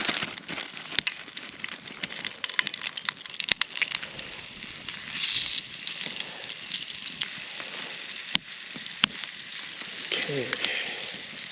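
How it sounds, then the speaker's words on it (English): Chicken pieces fry in hot oil mixed with water in a pan at a rainy winter kayak campsite, giving a steady crackling sizzle with sharp pops and spatters throughout, faint voice now and then. "Water and oil getting mixed. Okay, start putting the chicken in there."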